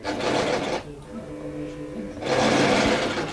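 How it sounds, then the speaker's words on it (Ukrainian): A sewing machine stitches a seam on a stuffed cushion, running in steady loud bursts with a short pause in the middle, alone and close up. "Я приходжуся по два рази на шов і буваю, іду зігзагами, щоб був краще укріплений шов."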